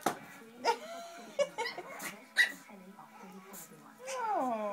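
A pug gives a few short whimpers and yips, close by and fairly soft, scattered among people talking affectionately nearby.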